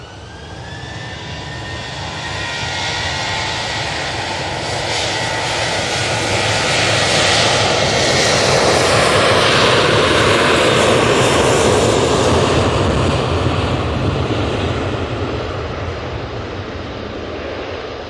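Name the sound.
TUI Boeing 737-800 jet taking off at Manchester Airport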